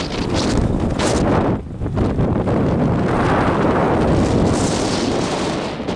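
Strong gusts buffet the microphone while riding a rental bicycle across the Nagoya Bridge in Gifu, Japan; loud, continuous rumbling wind noise dominates throughout with no voices.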